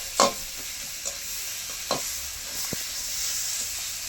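Turmeric, salt and Kashmiri chilli powder fry in a pan, a steady soft sizzle with a few scraping stir strokes, close and alone with no talk.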